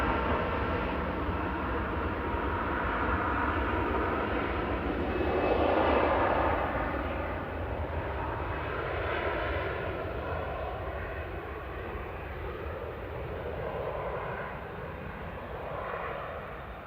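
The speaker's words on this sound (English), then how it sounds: "TUI L, flight 9247, 787-9 Dreamliner." Continuous roaring jet engines of a TUI Boeing 787-9 Dreamliner at Manchester Airport, a broad rumble that swells and fades slightly from a distance without talk.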